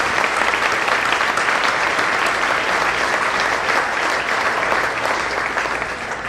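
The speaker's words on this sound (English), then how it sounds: "How about a big round of applause?" Big, steady round of applause from the crowd at Ohio University Eastern's 60th anniversary gala, dense and even for several seconds with no voices on top.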